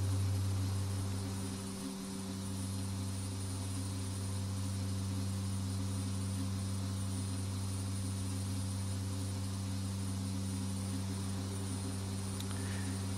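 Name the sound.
propeller aircraft engine in X-Plane 10 video game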